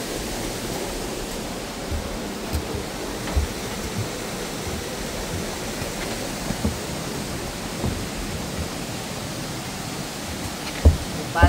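The Sundarijal waterfall in Kathmandu, a dense, steady roar of falling water that fills the scene without pause, with a few faint knocks and footsteps nearby.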